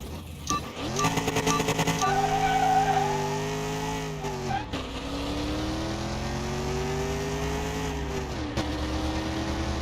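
A race car engine in the video game Car Mechanic Simulator 2021 revs hard and accelerates, with tire squeal. Loud rising engine whines are broken by brief drops between gear changes, and the sound runs steadily throughout.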